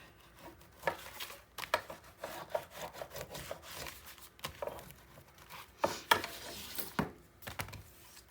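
Paper fold in a Christmas mini album being burnished with a tool, close dry rubbing and scraping strokes in an irregular rhythm of short bursts, quiet with no talk.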